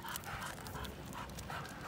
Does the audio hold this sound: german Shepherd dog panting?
yes